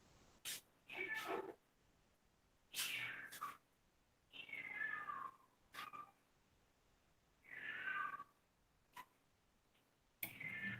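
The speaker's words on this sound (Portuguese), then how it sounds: "Tá bem nervoso o gato." A nervous cat meows repeatedly, with about five drawn-out, rising and falling cries separated by short gaps and mixed with a few clicks, fairly close in a quiet room.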